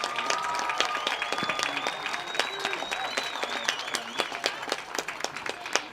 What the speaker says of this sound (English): Let's have one last round of applause for all of our amazing candidates tonight.